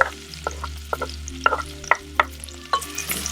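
Chopped onion fries with pancetta in a pan for an ancient Roman spelt dish, a gentle sizzle broken by about eight sharp clicks and scrapes of a utensil against the pan at an irregular pace.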